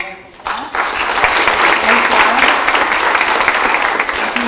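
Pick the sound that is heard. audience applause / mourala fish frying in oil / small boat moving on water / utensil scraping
audience applause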